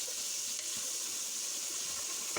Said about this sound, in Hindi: प्याज जो है उनको चॉप कर लिया है, वो शामिल करेंगे।